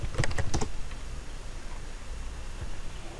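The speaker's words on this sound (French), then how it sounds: "on va taper Blogger" Typing on a computer keyboard, a quick burst of clustered keystrokes near the start followed by a steady quiet background hiss, with no talking.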